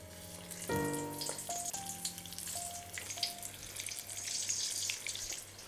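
Battered cauliflower florets for pakora fry in hot oil in a kadai, a constant close sizzle with crackles, along with a few metal spoon clinks against the pan.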